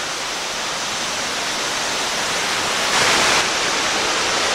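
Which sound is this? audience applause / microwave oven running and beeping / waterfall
waterfall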